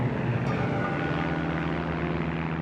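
Droning propeller engines of bomber aircraft circling overhead, a steady low rumble with a faint pulsing beat that holds at an even level throughout.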